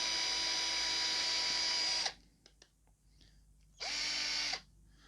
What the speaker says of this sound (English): I don't want to damage the battery compartment when I'm drilling these holes